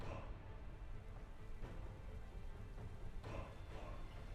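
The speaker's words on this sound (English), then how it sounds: "Out comes Politoed. There comes the Drizzle." Rain set off by the Drizzle ability in a Pokémon video game battle, a steady hiss of falling rain with a few louder swells, playing quietly alone.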